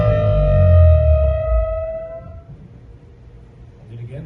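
An electric guitar note bends upward with bright ringing overtones and a heavy low rumble beneath, then fades into a quieter, noisy tail.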